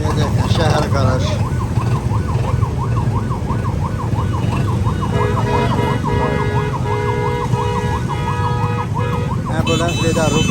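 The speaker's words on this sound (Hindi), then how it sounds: "एम्बुलेंस इधर रुके हुए हैं, रास्ता ही नहीं दे रहा।" Ambulance siren wailing in a steady, rapid up-down cycle, loud and close while stuck in dense city traffic, with engine noise and horns around it.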